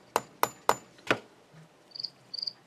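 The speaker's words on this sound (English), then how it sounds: "it just takes a couple of taps. And it doesn't matter which side of the hammer you use" Hammer taps on a wire hoop bail during jewelry making: four sharp, close metallic strikes in an even rhythm, then a few faint higher chirps, with no talking.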